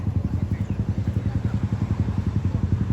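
Several Japanese motorcycles idle early in the morning, their engines throbbing in a steady, rapid low pulse that stays close and constant throughout.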